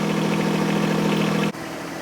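A John Deere 1023E compact tractor's engine runs with a steady low droning hum at close range, then the sound abruptly drops to a quieter, thinner rumble partway through; nobody speaks.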